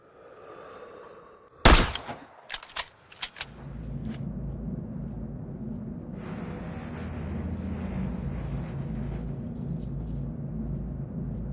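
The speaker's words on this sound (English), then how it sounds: "Once you get a clean shot, pull the trigger." A sniper rifle in a war video game fires one sharp, loud crack, followed by several quick echoing reports. A deep rumbling ambience settles in afterward.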